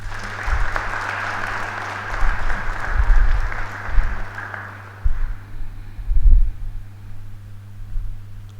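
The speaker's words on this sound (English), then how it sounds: "I think we all need to clap." Audience applause fills a deacon ordination ceremony at a seminary in Hyderabad, a broad wash of clapping that swells and fades in waves over a steady low hum, with a little indistinct talk.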